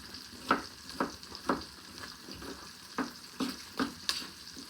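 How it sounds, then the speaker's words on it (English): Sausage and large chunks of onion fry in a pot for jambalaya, giving a soft, steady sizzle broken by about eight sharp scraping stirs, close and without speech. "right now while my sausage is cooking"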